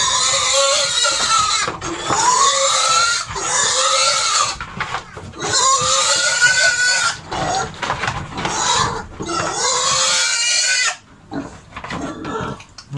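Pigs squeal loudly and repeatedly in long, harsh, agitated bursts during handling for treatment and vaccination on a pig farm, with short breaks between cries and scuffling noise underneath.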